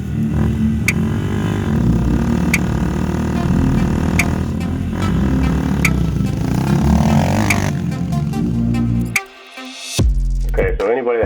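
An old motorcycle engine starts and runs steadily close by, a dense continuous mechanical rumble with periodic sharp clicks, then briefly cuts out and restarts near the end; no talk over it.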